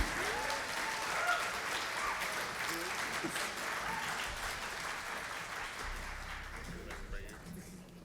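An audience claps steadily throughout, a fairly distant, even wash of applause that fades slightly toward the end, with faint vocal sounds mixed in.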